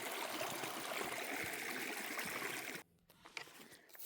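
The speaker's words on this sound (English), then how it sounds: "we hit Chandler Stream" Chandler Stream on the Appalachian Trail trickles and burbles softly as a small, low-water stream, a steady faint wash that drops away near the end.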